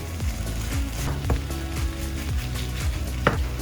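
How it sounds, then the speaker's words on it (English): An egg frying in a pan, with sesame seeds about to be added, makes a close, continuous sizzle broken by a few sharp scraping clicks as it is patted down. "So you see that egg? It's cooking."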